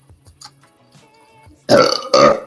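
A person lets out two loud, deep burps in quick succession after a few quiet seconds.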